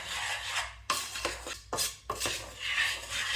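Brownie batter mixed in a pan: a spoon scrapes and rasps against the metal in rhythmic strokes, close up, with a few sharper knocks between passes and no talking.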